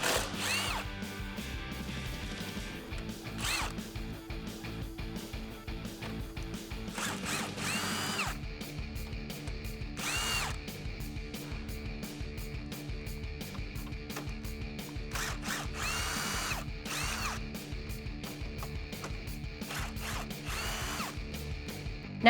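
A power drill with a 10mm socket whirs in repeated bursts while removing the grille bolts on a Ford F150, with ratcheting clicks between runs, close and continuous with no talking.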